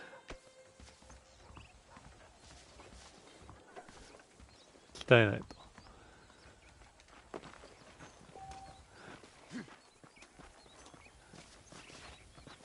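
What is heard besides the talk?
horses walking, hooves clip-clopping, from video game Red Dead Redemption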